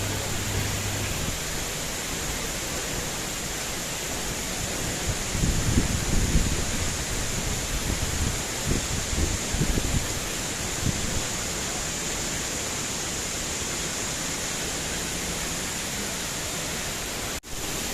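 Aagaya Gangai waterfall in the Kolli Hills roars and sprays as a steady, dense wash of broadband water noise, close and loud, with heavier surges midway and no voices.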